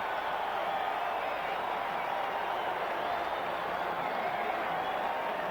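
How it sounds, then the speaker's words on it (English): A baseball crowd at a Cubs–Dodgers game at Dodger Stadium, cheering derisively after a routine out: a steady, diffuse roar of many voices with scattered applause, continuous and even, heard from a distance. "And the crowd in derision cheers."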